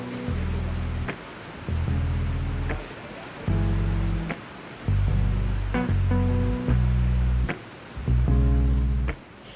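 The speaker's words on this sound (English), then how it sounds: "the rain finally hits like a total rain bomb, unexpected, powerful and impossible to ignore" Heavy rain pours down in Sardinia after a long, hot summer, a dense, steady hiss running throughout, overlaid by recurring low tonal swells that rise and fall every second or so.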